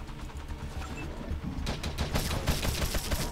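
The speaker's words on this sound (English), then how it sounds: "The chain gun isn't that bad." Sustained rapid fire from a chain gun in the video game Wasteland 2, dense mechanical bursts of gunshots that grow louder and busier partway through, heard alone without speech.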